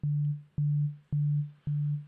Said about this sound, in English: Simple sine wave.